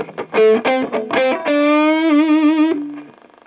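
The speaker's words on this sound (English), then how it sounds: "Too much reverb on there, but there you go." A Firefly FFDCD electric guitar plays a few quick notes, then a long sustained note that rings and wavers, drenched in heavy reverb and distortion.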